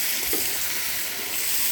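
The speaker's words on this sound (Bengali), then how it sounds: "আমার বাগনি রান্না করতেছে" Battered eggplant slices (beguni) fry in hot oil over a wood-fired clay stove, giving a steady, dense sizzle that runs close and even throughout, with no voices.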